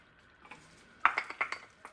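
A utensil stirring minced garlic into melted butter in a pan, heard as quiet scraping followed by a short run of light metallic clinks and taps against the pan, with no voices.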